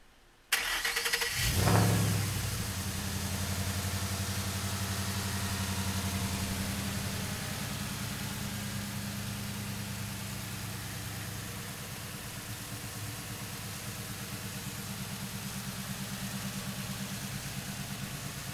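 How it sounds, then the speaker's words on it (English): A Ford Coyote 5.0-liter V8 in a 1956 Ford F-100 pickup cranks and catches with a loud rev flare, then settles into a steady, rumbling idle that runs on without speech. "let's fire this Coyote up"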